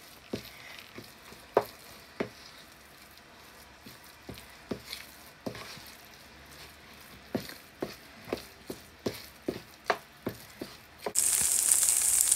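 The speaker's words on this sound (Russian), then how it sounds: "фарш у меня жарится вместе с луком" Minced meat and onion frying together in a pan, a steady soft sizzle broken by a series of sharp stirring clacks and scrapes at irregular intervals, with a louder hiss swelling at the very end.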